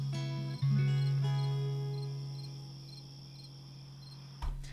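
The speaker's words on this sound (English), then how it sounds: "Just crickets." Crickets chirp in a steady, high, continuous drone alongside sustained tonal hums that fade gradually, ending with a brief knock.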